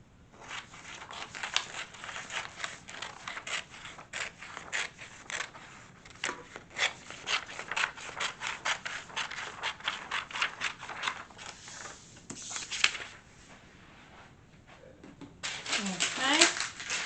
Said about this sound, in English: Cut off the extra part of this.